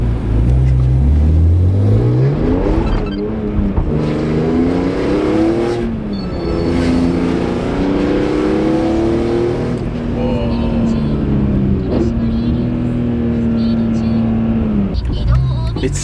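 A Nissan R34 GT-R engine pulls hard under power, its rising and falling drone climbing through the gears from inside the car while occupants talk over it.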